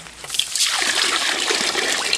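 Water poured onto rice in a pot while making curd rice, a loud close splash that settles into a steady trickling slosh with no talk.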